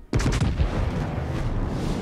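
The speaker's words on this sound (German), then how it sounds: "Die nächsten Schüsse sind zumindest mal auf dem Weg" A heavy boom of battleship gunfire in World of Warships bursts in sharply, followed by a long rolling rumble and crackle that fills the rest of the moment.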